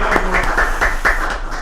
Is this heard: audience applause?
yes